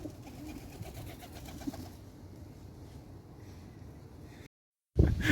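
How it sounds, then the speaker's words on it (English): Flock of pigeons cooing outdoors in Dublin, a steady close murmur of low coos for about four seconds before a short silence and a louder burst of noise at the end. "The real standout thing about Dublin is the crazy amount of pigeons."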